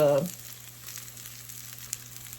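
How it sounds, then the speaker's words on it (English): Salmon croquette patties made with egg and onion fry in a pan, a soft continuous sizzle close by after a brief louder burst at the start, with no voices. "cooking the egg and the onion that was in there and just making salmon croquette patties out of them"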